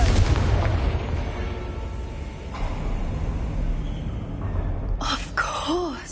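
A Confringo fire explosion spell cast in Hogwarts Legacy, a loud rumbling blast that starts at full strength and stays dense for several seconds before fading, with a few short tonal game sounds near the end.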